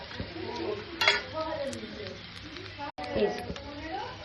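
Fried peanuts go into a pan of chowmein and are stirred, giving a soft sizzle with scraping spatula strokes and a few light clinks while someone talks over them.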